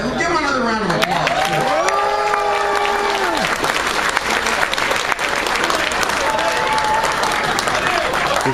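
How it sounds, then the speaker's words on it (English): Dense, steady applause from an audience rewarding a costume at a horror fan convention costume contest, filling the whole stretch at close range while a voice carries over it. "Give him another round of applause."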